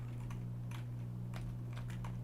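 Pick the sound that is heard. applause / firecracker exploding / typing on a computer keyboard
typing on a computer keyboard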